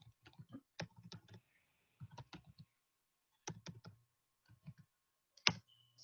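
Computer keyboard typing during an Igbo language lesson, with bursts of close, crisp key clicks in irregular clusters separated by short pauses and one louder final keystroke, heard alone without talk.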